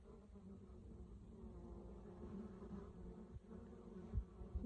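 Honey bees buzz steadily around a hive box set out to catch swarms, making a dense, continuous hum close by with faint thumps near the end and no voices.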